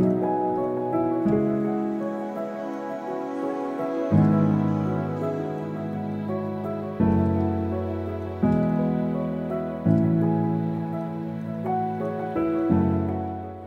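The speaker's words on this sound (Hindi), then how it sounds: "हवा बहुत तेज़ चल रही है, बारिश इतनी तेज़ नहीं है" Steady rain and strong wind on the Karakoram Highway in Pakistan, a loud continuous wash with low rumbling and tonal layers, holding a constant level throughout with no talk.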